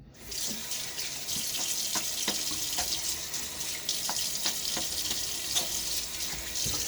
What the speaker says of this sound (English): Let me rinse.